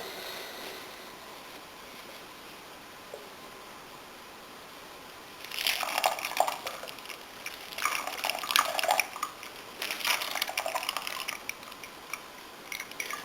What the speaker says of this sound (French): je vais rincer le récipient avec le jus de filtration